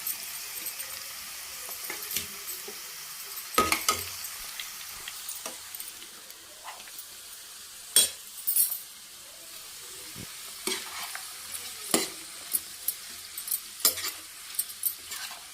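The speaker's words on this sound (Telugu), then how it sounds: "చక్కగా కలిపి మనం సిమ్లో పెట్టుకొని వేయించుకోవాలన్నమాట" Okra and onion slices fry in a pan with a soft continuous sizzle, punctuated by sharp scraping and clinking as a spoon stirs them at irregular intervals, quiet and close.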